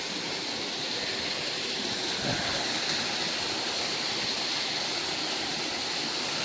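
Waterfall at Puck's Glen in Scotland, a steady broad rushing roar of falling water that fills the scene evenly throughout, close and constant with no other sounds.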